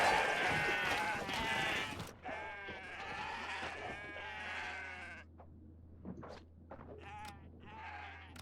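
Goats bleating in the video game Kenshi: loud, wavering bleats crowd the first five seconds, then shorter, sparser calls follow over a low, steady hum.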